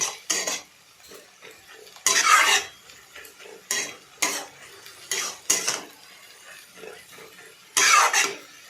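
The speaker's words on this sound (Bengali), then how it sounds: "এরপরে আমি ভালোভাবে নাড়াচাড়া করছি" Drumstick flower and fish roe curry stirred in a pan: close, repeated bursts of spatula scraping and clinking separated by short quiet gaps.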